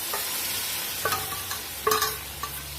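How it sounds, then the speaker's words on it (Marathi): Dal poured into a hot spice mix and stirred in a pan, giving a low steady sizzle broken by a few sharp spoon knocks and scrapes, loudest near the end. "त्याच्यामध्ये मी हे डाळ टाकून घेणार आहे"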